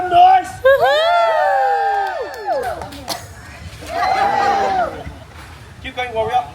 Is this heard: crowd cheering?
yes